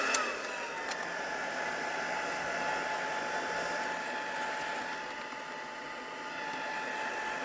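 A heat tool blows with a steady, close, continuous whir as it gently dries watercolour paint on a card, holding an even level throughout with no talking.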